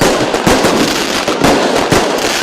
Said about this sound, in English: Not the sound of gunfire, but fireworks